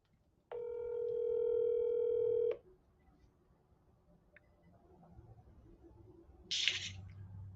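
A telephone call to a property inspector starts with a two-second steady phone tone, then quiet line hiss and a short burst of sound near the end.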